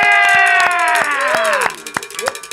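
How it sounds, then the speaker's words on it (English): A studio audience cheers and whoops for a country singer on a talk show, loud sustained voices with sharp clap-like hits, trailing off into scattered claps. "And the crowd goes wild."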